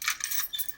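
A household bunch of house keys jangles close by in a quick, bright metallic rattle lasting under a second, with no voices.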